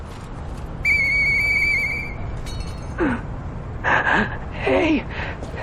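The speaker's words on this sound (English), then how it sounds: "I know that whistle." A character's whistle in the video game Lies of P, a clear, sustained tonal whistle lasting about a second, followed by short voiced gasps and exclamations.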